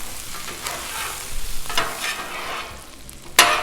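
Food cooks on a Blackstone flat-top griddle during breakfast quesadilla prep, an even close sizzle with scraping spatula strokes and a sharp metallic clank near the end, no one speaking.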